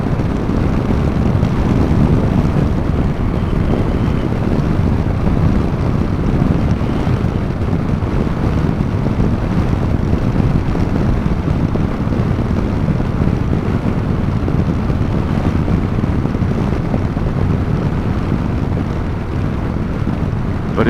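Riding a 2018 Yamaha Eluder motorcycle, with a loud, continuous rush of wind buffeting the microphone over a low engine drone, steady throughout.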